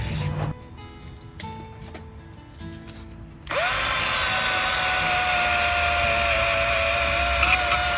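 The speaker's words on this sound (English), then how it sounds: "Just brushing the rust off" A power tool fitted with a wire brush scrubs rust off the wheel hub of a 2015 Ford Explorer. A few quiet clinks come first, then a loud, steady high-pitched whirring grind starts abruptly and holds to the end.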